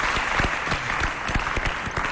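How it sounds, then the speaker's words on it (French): A studio audience at a Chadian television show claps briefly, a dense patter of hands close by without cheering. "Applaudissez pour lui, s'il vous plaît."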